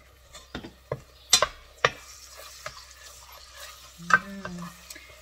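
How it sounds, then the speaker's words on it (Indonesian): Spices being stir-fried in a hot pan of oil, with scattered stirring clicks and scrapes plus a brief sizzle burst, close and fairly quiet with no talk. "Kita tumis sampai wangi, sampai mateng, harum, semerbak ya kan."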